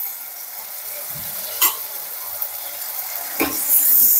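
Tomato and ginger garlic paste frying in a pan for baingan do pyaza give a steady hiss, with two sharp scraping strokes of the stirring spoon and a few soft clicks.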